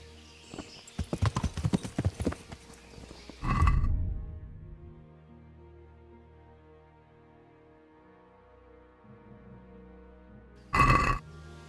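Rhythmic hoof clip-clop of a horse, followed by a snort-like burst and a quiet stretch, then another short loud snort at the end.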